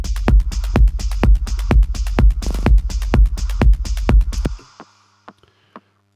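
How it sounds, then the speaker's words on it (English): Techno kick drum and bass line programmed in Ableton Live 10, a steady four-on-the-floor thump with rolling low bass and bright percussive ticks, loud and driving for about four seconds before cutting to faint scattered hits. "a kick and bass line that sounds like this"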